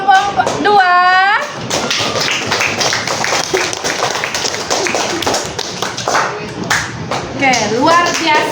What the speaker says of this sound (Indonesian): Sekali lagi tepuk tangan untuk kelompok 2.